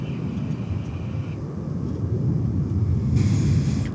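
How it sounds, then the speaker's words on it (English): An American Airlines Airbus A319 arrives at DFW Airport as a moderate, distant jet rumble that swells slightly toward the end, with no voices. "It's Flight 941 American Airlines and Airbus A319"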